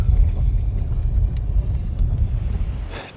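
Inside a car on a rough road in Iceland, a heavy low rumble and jolting vibration continue throughout, loud and close.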